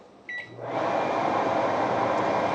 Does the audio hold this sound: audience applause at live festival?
no